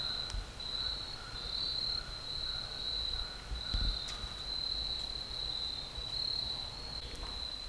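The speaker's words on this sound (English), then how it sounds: "Listen to the crickets." Crickets chirp in a continuous high-pitched trill, steady and moderately close, with faint outdoor background at Big South Fork National River and Recreation Area, and no talking.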